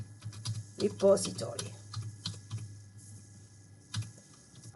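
Someone types a folder name on a computer keyboard in quick irregular bursts of clicky keystrokes, close and fairly quiet, with a brief spoken word over it.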